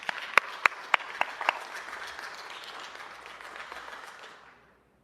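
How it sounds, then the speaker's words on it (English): At a city council meeting, an audience applauds, with a few sharp, close individual claps at the start over a softer wash of clapping that gradually fades to silence. "Please give him a round of applause."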